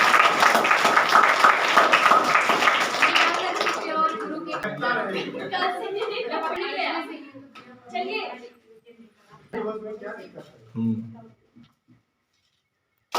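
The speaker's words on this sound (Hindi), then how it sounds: "ताली बजाइए भाई।" Students and teachers at a school Teachers Day celebration clap in a loud burst for a few seconds, then the applause thins out and talking and a voice take over.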